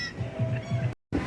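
Seagulls call on Clearwater Beach, a loud close squawking cry lasting about a second, followed by a brief gap and the start of another call.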